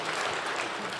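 A church congregation applauds the choir, a dense, even wash of clapping from many hands in a large room, brief and moderately distant.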